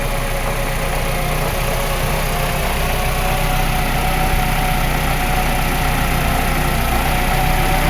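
A 1995 Mercedes 210 engine in an extremely rich condition idles steadily up close during an injector check, a continuous even rumble with no talking.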